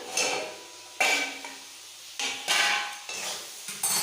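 A lid comes off a cooking pan of simmering prawn curry with tomato, giving several close metallic clanks, each followed by a bright hissing sizzle that rises and fades.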